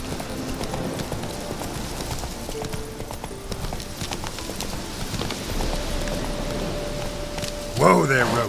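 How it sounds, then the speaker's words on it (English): A horse's hooves clip-clop at a steady pace in the video game Witcher 3, moderately close, with rain-like ambience around them and a short burst of other game sound near the end. "Whoa there, Roach"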